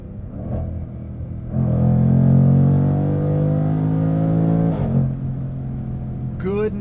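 Supercharged Jaguar F-Pace SVR engine heard from inside the cabin while driving, revving hard with a rising harmonic growl through several gears, a brief shift dip and a crackle near the end, with some voice over it.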